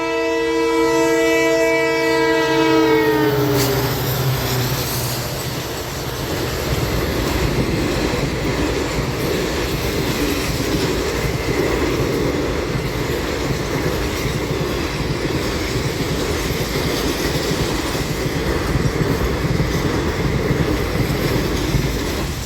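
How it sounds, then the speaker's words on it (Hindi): A train passes a railway level crossing, opening with a loud, sustained horn blast and then a long, steady roar of wagons and rhythmic wheel clatter rolling close by. "दोस्तों फाटकों पे खड़े हैं, ट्रेन आ रही है।"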